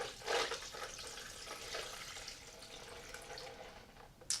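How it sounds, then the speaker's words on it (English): Liquid pours steadily into a blender in a soft, close splashing stream, faint and continuous, with a brief louder splash at the start and end. "you just pour those fluids into your blender"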